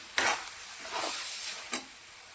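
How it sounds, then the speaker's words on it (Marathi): A spoon stirs a jaggery and dal mixture for puran in a pan, with a few short scraping strokes over a soft hiss of cooking, fairly quiet and close. "यानंतर आपण बनवलेली पावडर टाकून घेऊया चांगलं मिक्स करून घेऊया"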